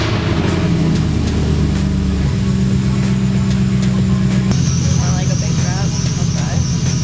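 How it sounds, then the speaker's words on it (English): A V8-swapped BMW E30 drift car cranks and fires into a loud, steady, rumbling idle close by, with a voice speaking over it. "gonna fire the car up"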